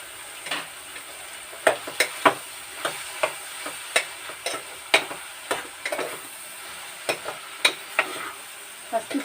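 Spoon scraping and stirring bitter gourd curry in a pan, with irregular clinks and scrapes over a soft sizzle of cooking, close and moderately loud, no talking.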